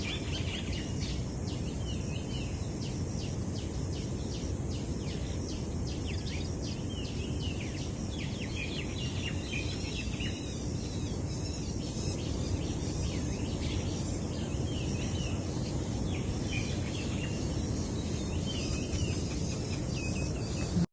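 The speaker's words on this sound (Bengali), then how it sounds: "এই দেখো পাখির কিচিরমিচির আওয়াজ শুনতে শুনতে" Birds chirp and twitter steadily outdoors beside a clay stove, with insects buzzing throughout; dense, continuous rapid calls at moderate distance, no talk.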